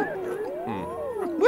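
A cartoon dog gives a wavering, sliding howl, rising and falling in pitch over about a second, in an animated football adventure series, with a louder yelp-like burst at the end.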